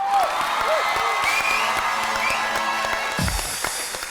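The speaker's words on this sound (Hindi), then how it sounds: "अपने लिए तालियां बजाओ" A studio audience in a TV talk show claps and cheers, dense steady applause with a few whoops throughout, and a brief low thump near the end.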